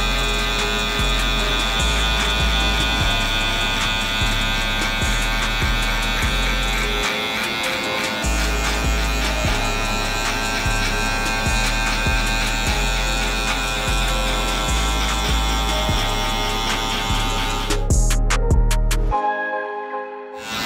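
Electric hair clippers with a guard fitted and the lever open run steadily through a beard, a close, continuous buzzing hum that holds for about eighteen seconds before cutting off.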